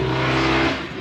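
A Chevrolet Camaro ZL1 revs hard for a launch, a loud, close engine roar with strong low harmonics that holds steady, then eases slightly near the end of the one-second burst.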